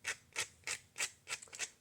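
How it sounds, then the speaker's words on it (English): A small plastic stingray model being sanded by hand, six quick scratchy rasping strokes in a steady rhythm, close and fairly quiet. "Sand away at this little plastic Stingray."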